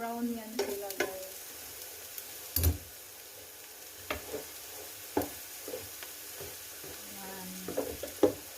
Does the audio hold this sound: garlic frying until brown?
yes